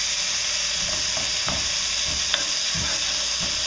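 Lemon pepper salmon sizzling loudly and steadily in a hot pan, with a few soft thuds and scrapes of a spatula as it is flipped, the frying hiss continuous throughout.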